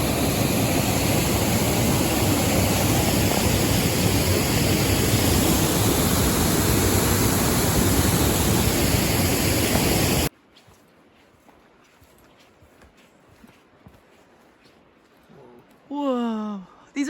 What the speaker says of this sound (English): Wow, we're in a waterfall!